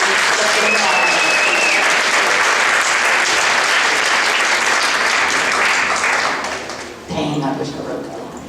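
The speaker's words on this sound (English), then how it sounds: "Let's applaud that line." Loud, close applause from an audience at an anti-bullying show, a thick continuous roar of clapping that dips briefly near the end and then resumes as a voice speaks over it.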